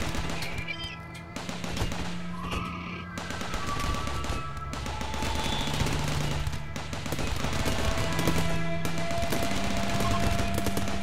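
Automated turrets in the game RimWorld fire sustained bursts of rapid gunfire, dense and continuous across the stretch, with game tones and faint voice traces mixed in.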